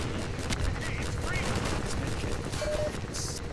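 Gunfire in the shooter game Half-Life 2 forms a dense, steady rattle of rapid shots with a few brief higher effects mixed in, loud and continuous throughout.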